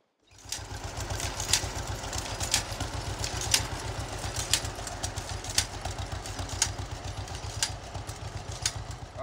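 Tractor pulling a check-row corn planter with its shoes lowered into the field, a steady low rhythmic engine chug with periodic mechanical clicks and clatter running continuously.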